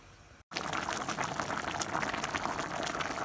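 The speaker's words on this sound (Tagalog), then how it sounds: "Kumulo na siya" Kaldereta stew with carrots and potatoes boils in a covered pot, a steady close bubbling and churning of liquid that continues evenly throughout, with no talk.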